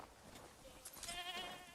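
Sheep bleat faintly in the video game Crimson Desert, a few short wavering calls with soft tonal bursts near the end over a quiet background.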